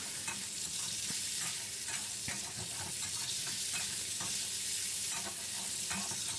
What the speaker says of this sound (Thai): ผัดหมูให้สุกก่อนเนาะ